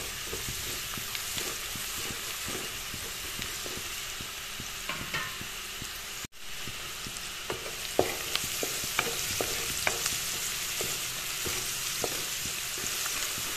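Onions frying in oil for an Assamese fish curry, a steady bright sizzle with scattered stirring clicks and spatters throughout, close and continuous with no talking.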